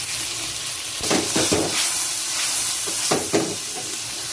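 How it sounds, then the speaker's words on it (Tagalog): Tomatoes sauté in a hot pan for kinamatisang liempo, giving a continuous oily sizzle broken by a few quick stirring swishes and scrapes at intervals. "Kaya pala marami ating kamatis ginigisa guys"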